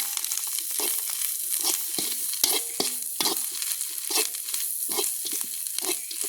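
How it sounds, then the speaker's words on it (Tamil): Food is stirred and mixed in a hot pan in a village kitchen, with rhythmic scraping strokes of a spoon repeating about every half second over a continuous sizzle. "அப்புறம் எல்லாத்தையும் சேர்த்து கலந்து விடுவோம்."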